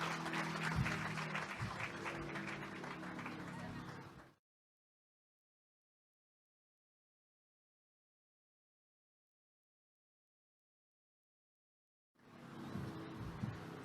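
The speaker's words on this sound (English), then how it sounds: "one more round of applause for the dignitaries that have been here" Audience applause at a groundbreaking ceremony for a Gandhi museum in Houston: a few seconds of dense clapping that cuts off into silence, then returns briefly at the end.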